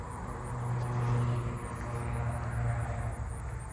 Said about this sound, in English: Southern ground crickets.